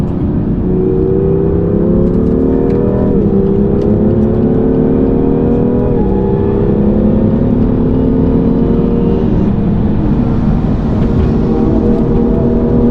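A BMW M2 NLS race car on a warm-up lap at the Nürburgring Nordschleife during tourist driving, its engine droning loudly from inside, rising and dipping through gear changes.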